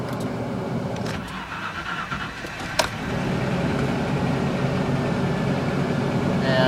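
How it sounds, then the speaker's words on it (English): A 1995 Rover truck engine idles steadily with a low, continuous rumble, close and fairly loud, with a brief click partway through and no talking. "even when the truck is idling"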